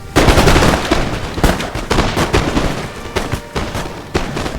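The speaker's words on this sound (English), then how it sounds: "They begin to stand forward, load their guns, and retaliate with a volley of their own." Musket volleys crack out in Napoleon Total War, a strategy video game, in rapid ragged bursts of gunfire with several loud reports overlapping and booming across a few seconds.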